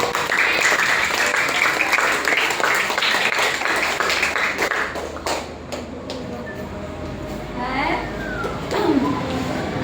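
Children in a classroom clap together in a loud, dense burst that lasts about five seconds, then fades into quieter chatter and scattered voices.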